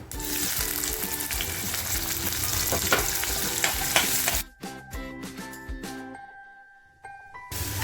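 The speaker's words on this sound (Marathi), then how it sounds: "आणि आपला कांदा फ्राय होतोय ना" Onion frying in oil for a Maharashtrian fish recipe, a loud close sizzle with stirring scrapes for about four seconds, then dropping to sparse crackles and faint clinks.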